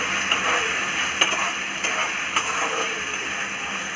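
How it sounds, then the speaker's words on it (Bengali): Okra curry with ginger paste and green chili is stirred in a frying pan, a loud continuous sizzle with a few sharp scraping taps of the spoon at irregular moments, close and without talk. "একটু আদা বাটা দেবো একটু কাঁচা লঙ্কা দেবো মিক্স করে নেবো"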